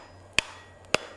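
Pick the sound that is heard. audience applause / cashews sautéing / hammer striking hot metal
hammer striking hot metal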